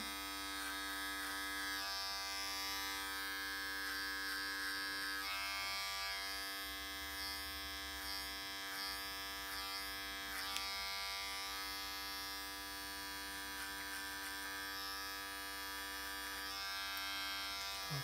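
Electric hair clippers buzz steadily and up close while fading a sideburn on a short textured men's haircut, the motor hum continuous for the whole stretch with slight shifts as the blade moves.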